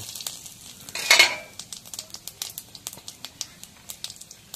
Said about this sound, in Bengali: জিরা দিলে কেমন ফোড়ে দেখছো?